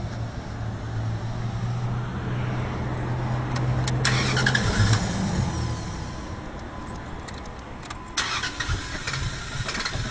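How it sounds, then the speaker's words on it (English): A 2004 Dodge pickup engine is cranked, with a steady churning starter rhythm close up for several seconds. The cranking then gives way to a rougher mechanical sound and some clatter, and there is no speech. "We'll start it and make sure that any fuel that was left in the fuel rail is burned out real quick."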